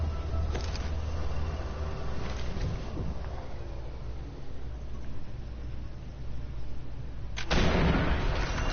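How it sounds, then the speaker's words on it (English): Tank cannon fire from a Panzer in Sniper Elite 4, with heavy booms at intervals over a constant low rumble of battlefield ambience, the last blast loud and close. "That is not a half track, that's a tank."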